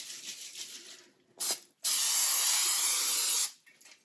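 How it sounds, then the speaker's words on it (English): Short hiss of an aerosol cooking oil spray onto pork shoulder, then a longer steady spray burst lasting over a second, close and fairly loud, with faint rustling between. "I'm just spraying the whole thing with a little bit of oil."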